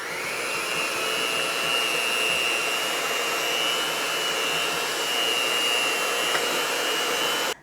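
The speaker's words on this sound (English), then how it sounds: "You can either whisk this by hand with a KitchenAid mixer or with a hand mixer." Hand or KitchenAid electric mixer whisking cream for strawberry rhubarb shortcakes, a steady loud whirring drone that runs unbroken for several seconds and then cuts off at the end.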